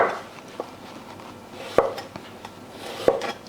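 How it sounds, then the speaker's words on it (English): Knife slicing fresh ginger into thin, broad slices on a cutting board, a few sharp separate chops spaced irregularly, close and fairly quiet. "So what I'm going to do, I'll slice it into very thin but big"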